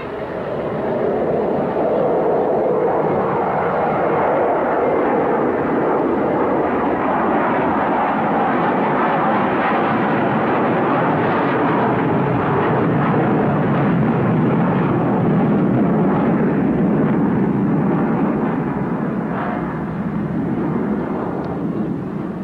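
Aircraft with black engine pods banking away at the 1986 Leicester International Airshow, its engines a steady, loud, broad roar that holds without a break throughout.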